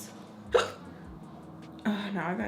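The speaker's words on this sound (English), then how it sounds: "Now I got hiccups" A woman hiccups twice, short sharp catches about a second apart, close and fairly loud, with faint breathy sounds in between.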